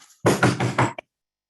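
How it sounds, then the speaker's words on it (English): A door is knocked on three times in quick, heavy succession, loud and close, followed by a single faint tap. "there is a knock on the door"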